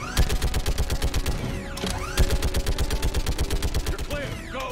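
Rapid automatic gunfire rattles in fast bursts in the Mass Effect 3 video game, loud and close, with sharp metallic shot reports and a few whooshing sweep effects layered over the shooting.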